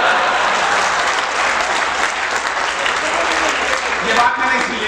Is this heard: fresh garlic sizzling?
no